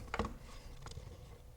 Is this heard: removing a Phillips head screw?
yes